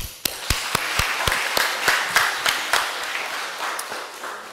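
Scattered hand clapping from a small audience at a Korean community center reopening ceremony in San Francisco, individual sharp claps standing out over a thin bed of applause that thins toward the end.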